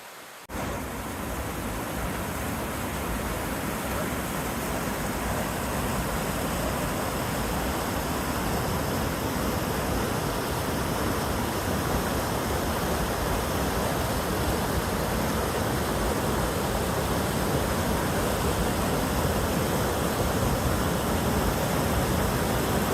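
Pendleton Falls waterfall roars as a steady, dense wash of rushing water, close and loud, with no break over the whole stretch after a brief moment at the start.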